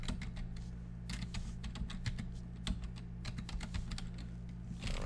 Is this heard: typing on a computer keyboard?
yes